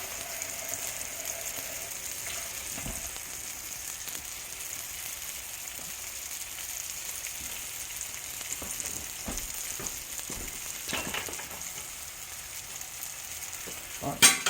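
Sausages sizzle and fry steadily in a pan, a constant hissing crackle with occasional clicks and scrapes, moderately close and without talk.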